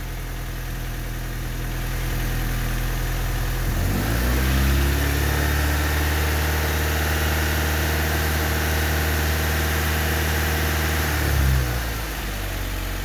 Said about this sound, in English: So we have to rev it up to 2500 and keep it there for 5 seconds.